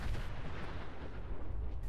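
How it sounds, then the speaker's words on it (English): A massive explosion tears through a shack in the video game Fallout 4, a dense, sustained roar of rumbling blast noise filling the full two seconds with no pause and no voices. "One such event has you witness a massive explosion in a shack."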